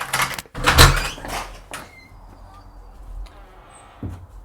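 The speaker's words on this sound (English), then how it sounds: "Check door clearance." A door in a hallway under renovation is swung open and shut: a couple of sharp wooden knocks and thuds near the start, then quieter creaks and a soft final bump, with no talk.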